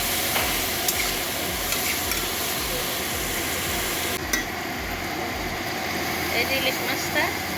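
Hilsa fish goes into a hot pan for a potato curry, giving a steady, loud sizzle and frying hiss with rhythmic stirring scrapes throughout.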